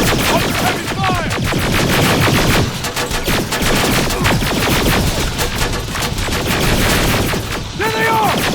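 Heavy gunfire rattles through a firefight in the video game Terminator Resistance: dense, continuous automatic bursts, loud and close, with short shouted voices breaking through near the end.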